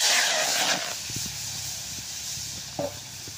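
Mashed banana hits a hot pan (kadai) with a loud, close sizzle that cuts off after under a second, leaving a quieter room and a couple of faint clinks.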